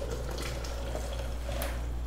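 Water pours steadily into a roast pork sauce, about 500 ml, a continuous close splashing rush over a low steady hum, with no talk.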